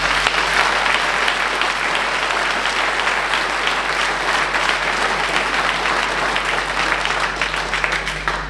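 Sustained, dense applause from the audience at a municipal New Year's greetings ceremony in Viviers, honouring the town staff; steady and fairly loud throughout, with no speech over it.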